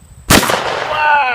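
A single loud shotgun blast fires a custom .50 caliber muzzleloader bullet shell into Jello, a sharp close report followed by a ringing, fading echo.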